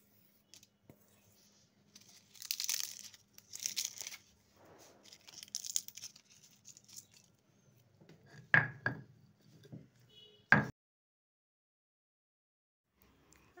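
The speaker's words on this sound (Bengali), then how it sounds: "তবে আমি শিলপাটাতে বেটে নিচ্ছি" Fried spices ground by hand on a stone grinding slab, a shil-pata, heard as a quiet run of rough scraping and rubbing strokes, then several sharp knocks of stone on stone toward the end.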